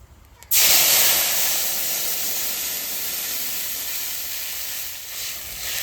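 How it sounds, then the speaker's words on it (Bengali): Water poured into a hot pan of black cumin tempering for a fish curry erupts in a loud, sudden sizzle and hiss that stays strong and steady, slowly easing. "কালো জিরে ফোড়ন দেওয়া হয়ে গেছে এবার আমি জল দিয়ে দেবো"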